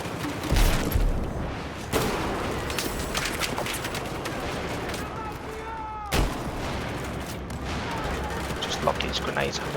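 Grenades and gunfire in Battlefield 4's Operation Locker conquest mode, with sharp explosive booms at intervals amid continuous battlefield crackle and a voice talking over the action.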